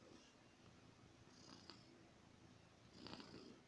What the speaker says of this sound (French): Il ronronne, Matt.